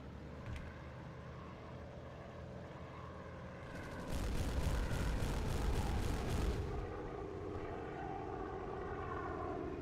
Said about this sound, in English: That was a Heinkel. That's a German medium bomber loaded with 8 250-kilogram bombs